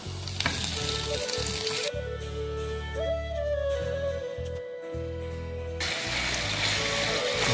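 Potatoes sizzle loudly in a hot pan, a steady close frying hiss that drops briefly and returns, with faint clinks of utensils partway through.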